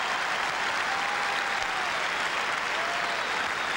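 A rugby stadium crowd at a Rugby World Cup match between Ireland and Zimbabwe applauding a successful kick between the posts, a dense, sustained wash of clapping and cheering heard from a distance.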